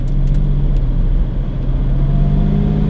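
A 1972 Jaguar E-Type V12 Coupé's 5.3-litre V12 engine idles with a smooth, loud, constant low hum and rumble, close by and unbroken.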